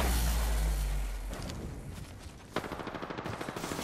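Automatic gunfire in the video game Apex Legends, loud and rapid, with a steady rattling burst in the final second and a half after a rumbling opening.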